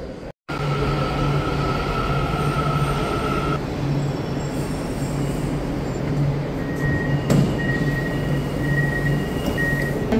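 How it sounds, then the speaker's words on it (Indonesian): KLIA Transit train at a station platform, a loud steady electric hum with a sustained tonal whine and rolling rail noise, close and continuous. "Train tu kalau datang sini, dia last lah orang turun, dia pergi rehat."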